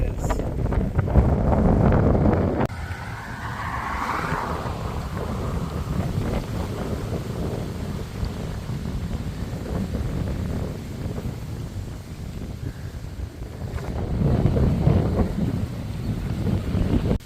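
Strong wind buffets the microphone while cycling along the Lake Ontario shore, a steady low roar throughout that swells louder at the start and again near the end, with no speech.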